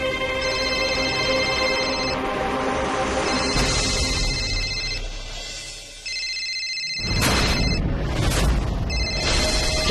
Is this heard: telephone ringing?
yes